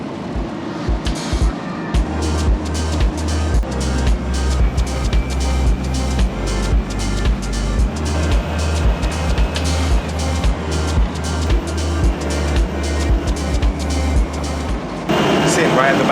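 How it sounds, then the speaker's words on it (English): An old London bus's diesel engine rumbles loudly from the back of the bus, a pulsing low throb that surges and settles in a repeating rhythm as the bus moves, with people talking over it. "You can hear the diesel."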